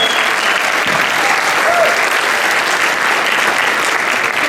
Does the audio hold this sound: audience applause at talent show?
yes